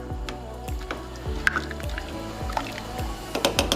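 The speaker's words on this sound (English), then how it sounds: "Just gonna push the noodles down into the water." Wet squishing and dripping sounds repeat at a quick, uneven pace as pasta noodles are pressed down into a pot of water.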